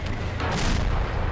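Rocket artillery fires in the Men of War Assault Squad 2 World War II Eastern Front battle game, a dense burst of loud, overlapping booms and whooshing blasts that fills the brief moment without any talk.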